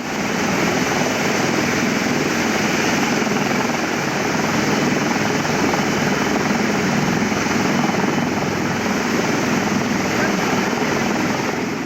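Loud, constant thudding roar of a rescue helicopter nearby during an airlift, its rotor drone filling the whole stretch without pause.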